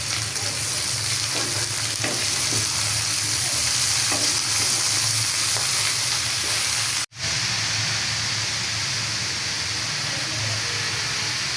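Vegetables being stirred and fried in a pan for a vegetarian lunch of cabbage greens, peas and potato, with turmeric and salt added: a steady close sizzle with scraping stirs throughout and a brief break partway.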